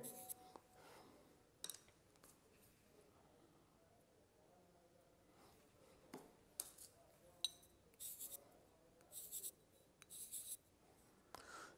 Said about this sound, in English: if required with the help of the pencil I will mark them